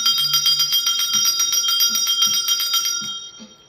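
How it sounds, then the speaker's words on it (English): Small bells ring in a quick, even series of bright, clear strikes, loud and close, fading out after a few seconds with no speech. "If your energy is not clear, bells clear."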